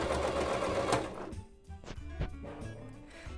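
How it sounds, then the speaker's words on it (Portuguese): A sewing machine stitching along the top side of a cloth diaper makes a fast, close mechanical whir that stops after a second or so. A few light knocks and clicks follow in the quiet. "Agora nós vamos continuar com a costura aqui, do lado de cima"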